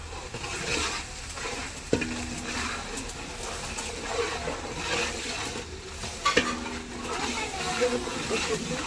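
Food sizzles and fries in a pan while being stirred, a continuous crackling hiss with occasional sharp clinks of the utensil against the pan, heard close up beneath a voice speaking.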